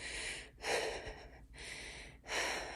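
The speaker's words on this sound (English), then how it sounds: "if you're breathing with your chest like this" A person demonstrates deep chest breathing, with three loud, close breaths drawn in and out at an even pace and short pauses between them.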